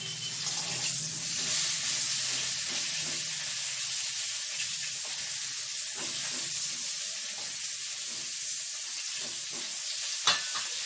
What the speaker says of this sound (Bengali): ওই তেলের মধ্যে আমি কফিগুলো ভেজে ফেলি আগে